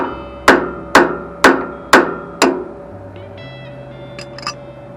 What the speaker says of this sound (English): Just gently knock that loose off of its gasket.